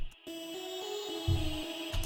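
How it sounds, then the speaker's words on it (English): A gritty, buzzy vocal chop with a bit crusher effect shifts between pitches in a short melodic phrase, with a crunchy lo-fi, video-game-like digital texture and soft low thumps beneath. "pitch it up and down into a melody, and then add bit crusher to it"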